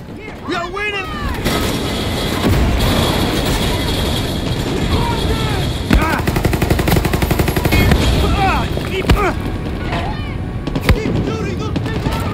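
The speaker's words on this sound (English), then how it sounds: "Keep shooting those people!" Battle gunfire in the shooter Far Cry 6, rapid automatic bursts and single shots crackling almost continuously with sharp louder reports, while voices shout over the fighting.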